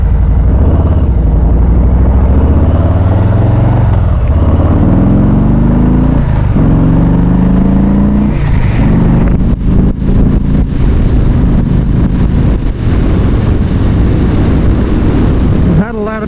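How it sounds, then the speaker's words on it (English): A motorcycle launches hard from a stop, its engine pitch climbing repeatedly through the gears under heavy, constant wind rumble on the microphone. "when a motorcycle takes off from a stop that they accelerate so hard"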